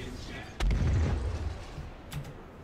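Missile launch in the space combat game Star Citizen: a sudden heavy boom with a rumbling low-end tail, followed by a fainter second burst, against a steady background of engine hum.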